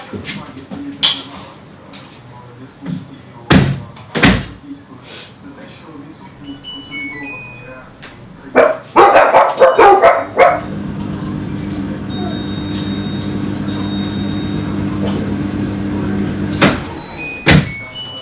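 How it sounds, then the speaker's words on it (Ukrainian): A car pulls up outside a house on a rainy day, its engine rumbling steadily in the background while people talk nearby and something thuds. "Машина якась під'їхала, думаю, що вже приїхали діти з роботи"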